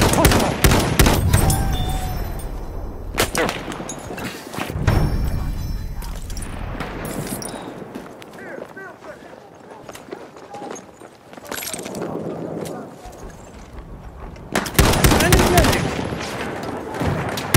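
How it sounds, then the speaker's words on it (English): Machine gun fire and bursts of gunfire in Battlefield 1 team deathmatch on the Empire's Edge map, loud and close, dense at the start, easing mid-clip, then surging again near the end, with shouted voices mixed in. "Machine gun! Hostile!"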